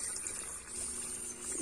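Water poured into a cement mix for a balloon-molded vase, a steady liquid rush and gush running continuously at moderate level with no talk.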